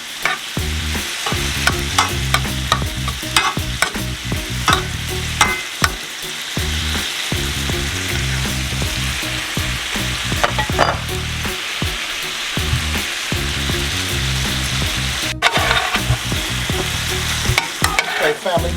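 Large shrimp frying in a pan, a constant loud sizzle with repeated stirring and flipping scrapes throughout, no voices over it.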